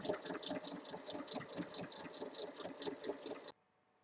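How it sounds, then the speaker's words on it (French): A sewing machine runs steadily, stitching a seam on a zippered tote bag in a rapid, even mechanical chatter before stopping abruptly near the end. "L'autre côté, il suffit juste de piquer de haut en bas."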